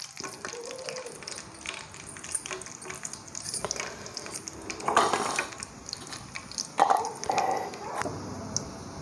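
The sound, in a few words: cumin seeds frying in oil for lemon pickle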